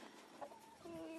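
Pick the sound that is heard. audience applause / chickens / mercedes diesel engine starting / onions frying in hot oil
chickens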